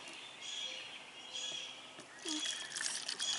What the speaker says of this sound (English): So now, Isla, I'm going to need you to pour some water into this